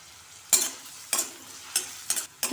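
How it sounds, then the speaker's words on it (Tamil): Thinly sliced large onion and a split green chilli sauté in a pan for soya bean gravy, with a steady soft sizzle broken by four or five sharp scraping stirs, close and fairly quiet, with no voices. "ஒரே ஒரு வெங்காயம் பெரிய வெங்காயம் தான் அப்படியே சன்னமாக கட் பண்ணியிருக்கேன் அதை அதில் சேர்த்துப்போம்"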